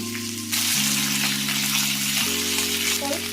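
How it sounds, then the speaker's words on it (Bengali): Black mustard seeds and curry leaves hit hot oil for a Kerala-style chicken curry, bursting into a loud, steady sizzle with faint popping, while music plays underneath. "এখানে আমি হাফ টেবিল স্পুন কালো সর্ষে ফোড়ন দেব। আর দিয়ে দেবো কারি পাতা।"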